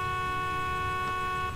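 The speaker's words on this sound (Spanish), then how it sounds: "¿Ah, puedo tocar bocina?" A car horn sounds in Need for Speed Most Wanted, beeping from a Pontiac Firebird parked in a garage, one steady sustained tone for about a second and a half with no talk over it.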